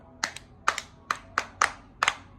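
Small girls at home clap for themselves in short bursts, about six quick double claps in an even rhythm, close and fairly quiet, with no talking.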